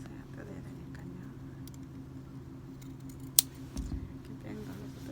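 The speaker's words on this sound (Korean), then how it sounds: "오버로크 끝을 가위로 잘라줘요." Scissors snip through overlock thread on a dress seam during garment alteration, a single sharp, close cut standing out above a low steady background hum.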